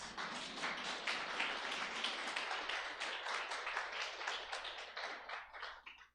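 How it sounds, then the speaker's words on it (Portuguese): A congregation applauding for the Lord Jesus during a church service, dense, sustained clapping from many hands that holds steady, then tapers off at the end. "Vale um aplauso para o Senhor Jesus"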